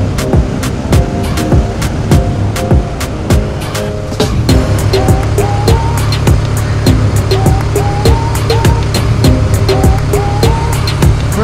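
A Royal Enfield Interceptor motorcycle with a Mash 400 sidecar accelerates, its engine note climbing through several rising gear pulls under steady wind rush and rhythmic ticking, loud and close throughout.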